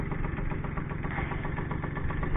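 A moped with a Minarelli copy engine idles as it warms up, a steady, close mid-pitched putter with a faint knocking rhythm and no throttle changes.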